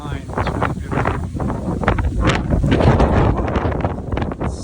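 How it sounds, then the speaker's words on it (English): Strong wind buffeting a microphone outdoors at a temple on a pilgrimage route, with heavy low rumbling gusts and rustling that swell and ease in waves. "It's so windy."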